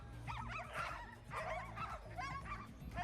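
A team of sled dogs at the start of the Can-Am Crown International Sled Dog Race in Fort Kent, Maine, yips, whines and barks excitedly in repeated bursts. The dogs sound fairly distant and quiet.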